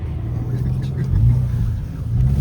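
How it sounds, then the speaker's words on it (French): A BMW M5 phase 2 with its 5-litre V10 drives along with a steady, deep engine rumble, swelling slightly at moments as it pulls, heard from inside at a fairly loud level. "M5 V10 phase 2. Moteur V10."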